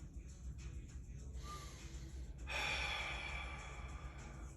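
Slow, deep breaths during a psoas release exercise, with a soft inhale followed by a longer, louder airy exhale, heard up close and alone against a low steady background.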